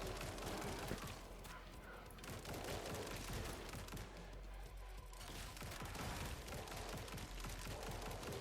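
Rapid, dense gunfire from weapons in the survival shooter Grind Survivors, a continuous loud barrage of overlapping shots and bursts with no pauses.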